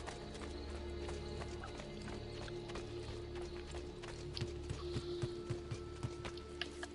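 A horse in Assassin's Creed II gallops with a clear rhythmic clip-clop of hooves, whinnying now and then over a steady game backdrop, with brief talk under it.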